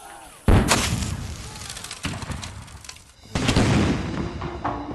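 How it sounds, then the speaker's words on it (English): A British barrage of cannon and mortar fire pounds a besieged town during the Siege of Charleston in the Revolutionary War, with heavy booming blasts landing one after another and a long rumbling tail rolling on behind them. "the British rain a constant barrage of cannon and mortar fire down upon the town."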